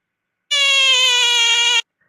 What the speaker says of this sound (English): The frog says mom 5 times.